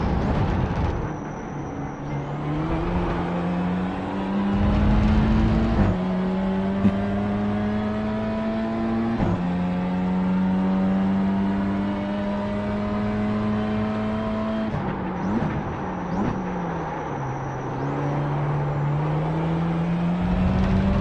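A road car driven on an ordinary drive, engine revving up through a series of gear changes with a whine rising and dropping, loud and close, with a dip mid-way as it slows before accelerating again.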